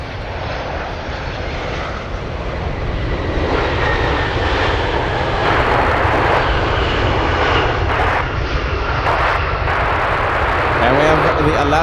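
A plane on its takeoff roll from Anchorage airport on a windy day, a loud, sustained engine roar that holds steady and builds slightly over the whole stretch, with muffled voices mixed in beneath it.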